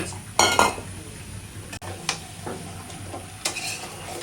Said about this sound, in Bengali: এই যে গোস্ত আলু দেওয়া হয়ে গেছে একসাথে এখন লাড়াচাড়া করি